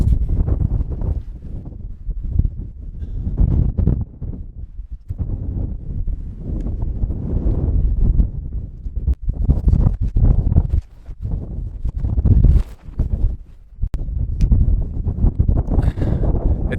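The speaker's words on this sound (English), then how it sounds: "Because it's windy" Strong gusty wind buffets the microphone continuously, roaring and rumbling with rising and falling surges and brief lulls.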